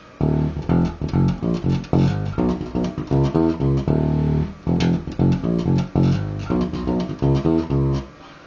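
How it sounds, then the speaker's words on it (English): A jazz bass plays a busy, punchy riff of short plucked notes with brief pauses, with no pedal, clean and upfront with no other instruments. "So this is the sound of the jazz bass"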